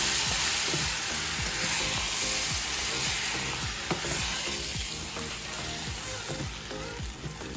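Kootu curry, a Kerala Onam dish, is stirred in a hot pan, with steady loud sizzling and frying throughout and frequent scraping and clatter from the spoon near the mic.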